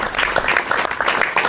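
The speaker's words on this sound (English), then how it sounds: "No anthem here, just a ripple of applause." A short ripple of applause from delegates at an EU summit, steady close clapping from a modest group with no music or voices.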